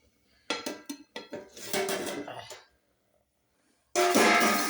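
A tawa griddle and pots handled on a home stove: several quick metallic clanks and knocks, then a scraping rattle, a short silence, and a louder clatter at the end, with no talking.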